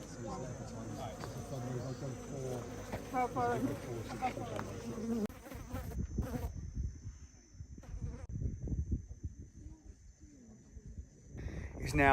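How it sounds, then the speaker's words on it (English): A desert cricket in Namibia buzzing and chirping close by, a steady insect drone over the first half that breaks into scattered rustling and movement sounds, with quiet talk at times. "Desert cricket."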